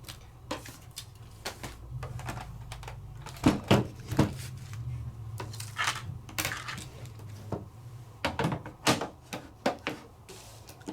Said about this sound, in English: this die is going to press into that paper and then press into that clear cutting plate